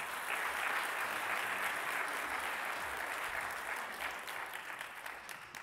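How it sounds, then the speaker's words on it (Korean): A church congregation claps in sustained, dense applause that holds steady for several seconds and then slowly fades, with no voices over it. "우리 하나님께 감사한 마음으로 큰 박수로 환영하도록 하겠습니다"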